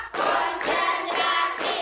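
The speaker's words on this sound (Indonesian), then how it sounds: "Tepuk satu. Tepuk dua. Tepuk tiga. Tepuk empat." Rhythmic hand clapping in an elementary school classroom, about four sharp bursts of claps in steady time, close and fairly loud, with no talking.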